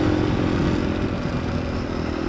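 A modified Yamaha RXT135 two-stroke pitbike engine revs loudly and close, a buzzy, rattling drone that holds steady with slight wavering over a couple of seconds, with no voices.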